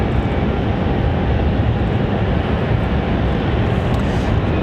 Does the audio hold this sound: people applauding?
no